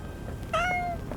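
A single short cat meow in the video game Goblin Cleanup, clear and close over quiet background noise.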